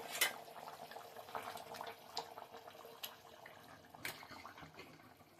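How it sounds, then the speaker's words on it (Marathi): Stuffed brinjal curry bubbling as it boils in a pot, with soft irregular bubbling and a few light clinks of utensils close by, no voices. "तुम्ही बघू शकता आपल्या भाजीला खूप छान अशी उकळी आलेली आहे"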